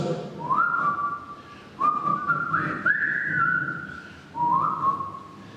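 A person whistles the marching tune from Bridge on the River Kwai, clear, close and solo, in short rising and sliding phrases with brief pauses between them.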